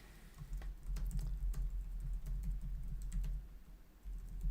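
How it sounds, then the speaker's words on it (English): Steady typing on a computer keyboard while a message is entered into a web form in a browser, quick irregular key clicks running throughout at close range with a low hum beneath and no talk. "now in the browser we can type a message"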